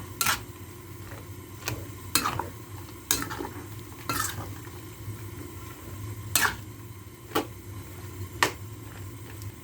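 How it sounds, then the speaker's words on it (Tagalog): Pig blood being stirred into dinuguan in a cooking pot, with a spoon scraping and clinking against the pot every second or two over a low, steady simmering background. "ayan ilagay na natin yung dugo ayan pero kailangan nating halo-haloin pag nilagay natin kasi magbuo-buo siya."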